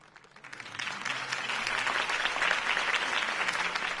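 Crowd applause breaks out after a mayoral campaign speech in a Batman video game, swelling quickly from quiet into dense, sustained clapping from many hands that holds steady to the end.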